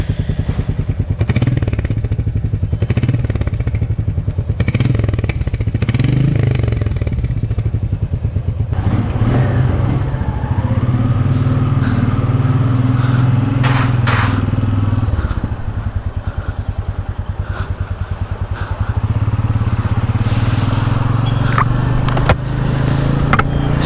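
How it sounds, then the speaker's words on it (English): A 2021 Royal Enfield Meteor 350 Supernova, a 350cc single-cylinder motorcycle, thumping loudly up close at idle before pulling away and riding on, its engine and exhaust note rising and falling steadily with no talk. "here is the first test ride of Meteor 350cc, and this is the Supernova version."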